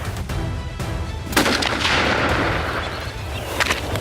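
Rifle shots ring out during a baboon hunt in rugged Drakensberg mountain thicket, sharp loud cracks with echoing rumble, one near the start and another around the middle, over outdoor background noise.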